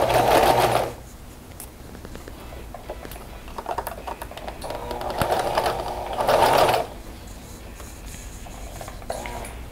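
Sewing machine stitching stretched elastic onto fabric, running in short loud bursts with pauses between them and a steady quieter clatter in the gaps.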